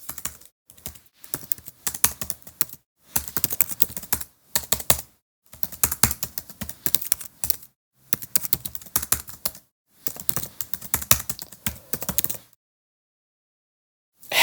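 Typing on a computer keyboard comes in brisk bursts of rapid clicking keystrokes separated by brief silent pauses, close and clear, with a longer quiet stretch near the end and no talking.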